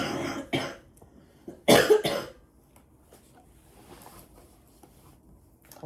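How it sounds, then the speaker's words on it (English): A couple of sharp, close coughs in quick succession near the start, followed by quiet room noise. "A cough."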